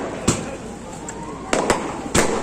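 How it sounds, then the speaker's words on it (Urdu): Firecrackers bang outside an election rally in Jafar Nagar, three or four sharp separate cracks spread over a couple of seconds against a steady crowd murmur, with one distant pop in between. "یہ جو پٹاخے بازی ہو رہی ہے یہ ہم نہیں کر رہے."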